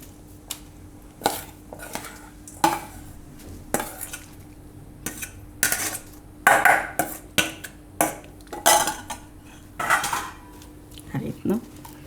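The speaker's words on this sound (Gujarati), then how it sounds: "હવે આમાં નાખશું આપણે બટેટાનો મસાલો." Potato masala being added to crushed puri for churmur chaat, a Gujarati street snack, heard as a run of close clinks and scrapes of a spoon against a bowl in irregular bursts, with brief talk in between.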